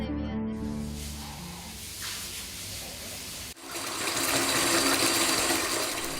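Bath water for a baby sloshes and rushes steadily, with a quieter watery hiss before a sudden louder surge of gushing, splashing water that fills the rest.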